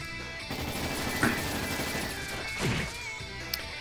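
Enemy gunfire in the Trails in the Sky SC video game, a steady rattling barrage with two sharper impact bursts standing out over continuous game sound effects and music.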